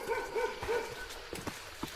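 Dogs bark and yip at a moderate distance near a house along a mountain trail-running route, with short repeated barks and scattered footsteps.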